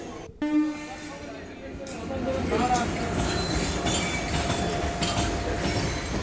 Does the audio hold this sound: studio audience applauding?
no